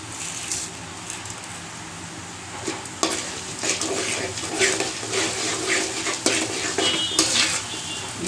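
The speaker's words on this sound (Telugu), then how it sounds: "చూడండి, జీలకర్ర వేసేస్తాను." Cumin seeds go into a hot pan for dry fish podi, giving a soft steady sizzle with scraping stirs and occasional metallic clinks of a spatula against the pan.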